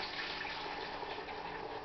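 Homemade ice cream mixture poured from a container into an old-school ice cream freezer makes a steady, continuous liquid gush, close and even throughout.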